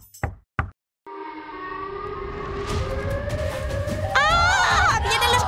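After two sharp knocks, a loud siren wails and climbs steadily, joined by a second rising tone with shouting voices over it.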